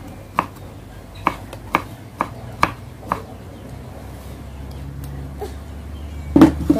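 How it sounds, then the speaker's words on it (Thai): Termite mushrooms and shallots are chopped on a board with about six sharp, evenly spaced knife strikes, then a quieter stretch ending in a louder clatter. "หั่นเห็ดโคนแล้วก็หอมแดงก่อนนะคะ"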